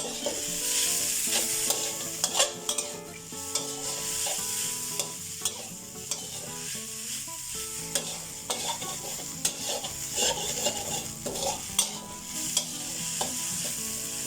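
Catfish pieces are dry-roasted in a pan with galangal, lemongrass and kaffir lime leaves, a steady soft sizzle broken by repeated sharp scrapes and knocks of a spatula stirring, close and clear, without speech.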